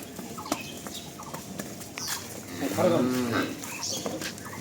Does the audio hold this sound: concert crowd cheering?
no